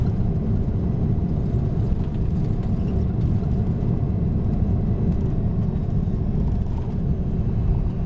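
A Biman Bangladesh DC-10 with its engines in reverse thrust during landing rollout gives a loud, steady, broadband roar that holds throughout with no voices.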